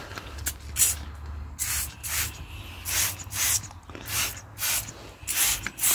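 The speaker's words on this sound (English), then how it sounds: "so we'll just spray it on" Repeated short hisses of a spray bottle spraying cleaner onto a car, about a dozen quick pumps in an uneven rhythm, close and clear with no talking.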